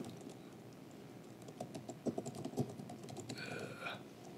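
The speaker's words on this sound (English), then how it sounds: "I can't see what I'm typing." Typing on a computer keyboard during a Django talk, with quiet scattered key clicks, a brief cluster of louder taps near the middle and a faint tonal beep toward the end, with no talking.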